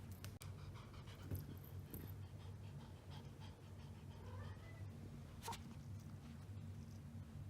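A cat pants at night indoors, rapid rhythmic breaths close to the listener, fairly quiet over a low background hum, with a couple of sharp clicks.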